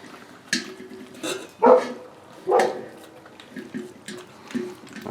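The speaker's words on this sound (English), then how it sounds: "I hear that big dog." A big dog barks at a distance, about three or four deep woofs spaced over a few seconds, moderately loud against a quiet indoor room with small incidental noises.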